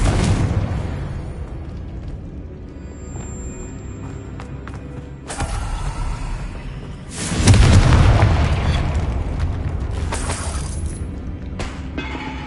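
Confringo explosive spell blasts in Hogwarts Legacy, a sharp booming impact followed by a second, heavier rumbling explosion with shattering debris that rings out and slowly decays.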